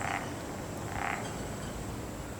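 Frogs croaking mating calls at an abandoned leisure complex, two short raspy croaks about a second apart over a faint steady background hum.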